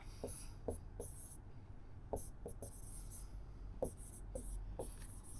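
A pen writes notes during a reasoning lesson with soft scratching strokes and short taps, in irregular bursts close to the microphone, with no talking.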